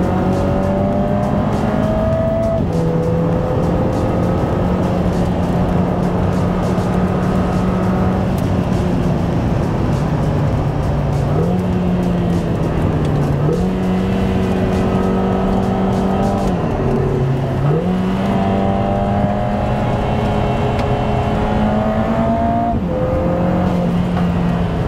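A Lotus Emira driven hard on the Hethel test track gives a loud, continuous engine note that climbs and drops repeatedly through gear changes and corners, recorded close up with no talking.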